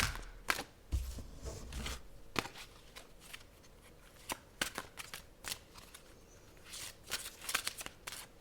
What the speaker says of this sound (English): This one now is the Goddess Guidance Oracle cards from Doreen Virtue.